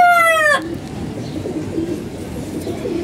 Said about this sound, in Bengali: কবুতরটা